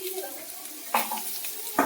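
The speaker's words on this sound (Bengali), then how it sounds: "ঠিক সব গাজর ভাজা হচ্ছে।" Carrots frying in a pan, a close, steady sizzle with stirring and two sharper scrapes of a utensil against the pan.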